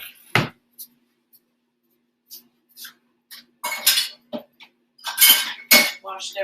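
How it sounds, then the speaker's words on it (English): A jar is taken from a kitchen cupboard with scattered clinks and knocks of glass and crockery, plus a door bump. The sounds come in short, close bursts separated by quiet. "I'm gonna get my flour jar"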